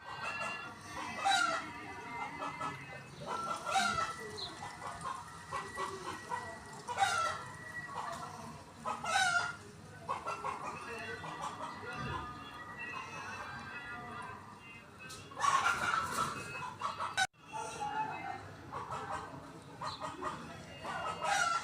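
A neighbour's rooster and hens in a yard cluck and crow in repeated bursts, with several calls spread across the stretch and some faint voices mixed in.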